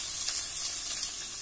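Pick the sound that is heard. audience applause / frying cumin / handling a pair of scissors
frying cumin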